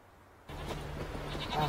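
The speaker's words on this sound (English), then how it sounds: "Next gen goats." Goats bleating in The Witcher 3 on Skellige, a steady, moderately close game sound that begins abruptly partway through with a sustained cry toward the end.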